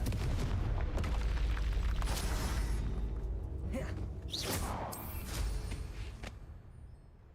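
A Confringo fire spell in Hogwarts Legacy, a deep rumbling boom followed by whooshing bursts that fade out, with no talk over it.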